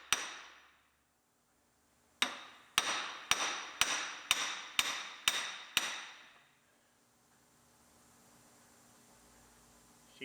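A hammer strikes a long chisel wedged into a wrecked Lexus IS250 to drive out a car part: one ringing blow, a pause, then seven sharp metallic hits in quick even rhythm, each with a short decaying ring, followed by quiet.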